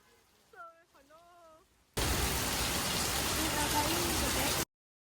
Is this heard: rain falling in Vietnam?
yes